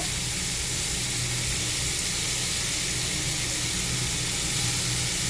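Cabbage, peas and a fish head cooking in a pan give a steady, dense sizzle and hiss that runs without a break, close and fairly loud, with no voices.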